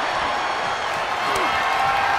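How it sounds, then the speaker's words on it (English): A virtual arena crowd in the WWE 2K24 wrestling game roars in a dense, steady wash of cheering during a Triple H match, loud and continuous with no distinct claps standing out. "Listen to this crowd."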